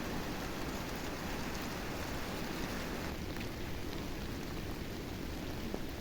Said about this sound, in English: It is all raining now